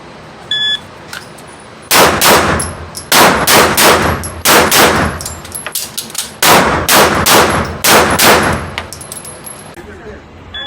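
Glock 19 pistol with a Trijicon RMR red dot fired offhand, rapid loud close shots in several quick strings of three to four, with faint beeps early on.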